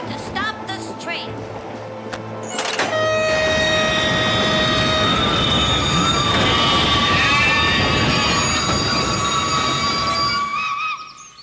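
A train running on rails, a loud continuous rumble with high squealing wheel tones that settles into a steady roar and fades at the end, following brief sharp clanks and tones at the start.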